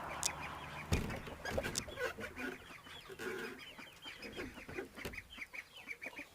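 Chickens cluck and chatter repeatedly at close range, with scattered short calls overlapping and a few sharper squawks.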